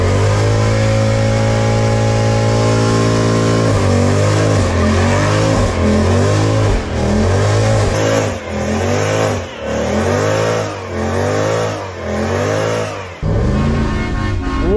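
A Mercedes C63 AMG W204 engine accelerates and revs hard, a loud, close, steady roar that surges through repeated rising-and-falling pulls with no talking over it.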